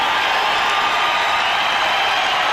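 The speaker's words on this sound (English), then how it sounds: "The applause continues." A crowd of about 21,000 applauding and cheering in a basketball arena during an NBA playoff game: a dense, loud, continuous roar of clapping and shouts with no breaks.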